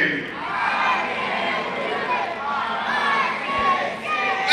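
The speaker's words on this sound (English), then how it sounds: "do our final cheer on the count of three" Gliding Stars of Toledo skaters give a final group cheer at an end-of-year ice show: a loud, sustained burst of many voices shouting together, close and crowded, with a steady roar across the whole moment.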